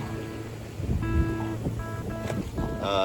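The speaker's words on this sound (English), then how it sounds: "it's good to be sailing with some good wind" A sailboat running on a reach at about six knots in good wind, water rushing steadily along the hull with a wind-swept wash and faint creaks and tones of the rigging, close and continuous.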